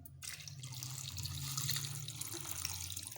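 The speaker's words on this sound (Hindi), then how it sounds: "तो अब मैं इसके अंदर पानी ऐड करती हूँ।" Water pours steadily into a pot of cubed turnips, a continuous splashing gush heard up close with no talk over it.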